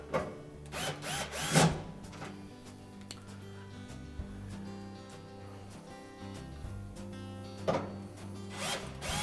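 A power drill runs in short bursts while driving screws into a Whirlpool washer control board, giving faint whirring pulses over low mechanical hum, with one louder burst early and another near the end.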